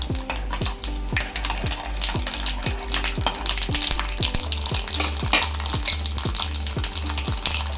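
Mustard seeds sputter and pop in hot oil for a Tamil-style spicy chutney, with sharp, irregular crackles and spits over a steady close sizzle and no voices.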